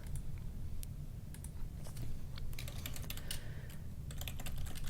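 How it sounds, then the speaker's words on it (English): Typing on a computer keyboard sounds as a run of light, quick key clicks in uneven bursts, close up over a low background hum, with no speech. "So I type in Introduction to Literature."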